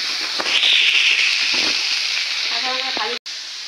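Ground spices and green chilies hit hot oil, giving a loud, close sizzle that swells and then settles into a steady fry, with a few brief clinks of a utensil near the end.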